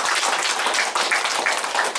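Lecture audience at a Cheonbugyeong special talk applauds in close, crisp rapid clapping that stays steady and moderately loud, with no voices over it.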